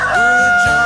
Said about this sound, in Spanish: El gallo Chindalvinto va un poco desquiciado con la hora, ¿eh